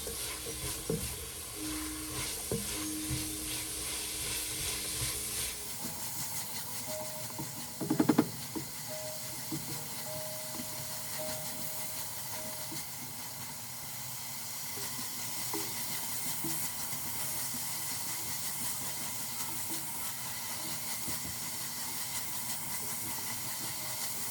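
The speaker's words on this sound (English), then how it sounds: "while I've got the onions cooking down" Onions cooking down in a pot for homemade potato soup, making a faint, steady hiss of gentle frying with a brief clatter partway through; no one speaks.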